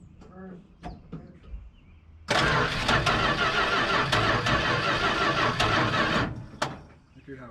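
A barn-find Dodge D100 pickup engine cranks briefly and catches, running loud and steady for about four seconds before cutting off, with faint talk before and after.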